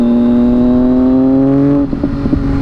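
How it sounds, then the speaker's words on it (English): A 2010 Triumph Daytona 675 inline-three engine with a Two Brothers shorty muffler holds a loud, steady, close-up drone, then drops into rougher, choppy revving pulses near the end. "That inline 3, the sound that this thing produces with this Two Brothers shorty muffler"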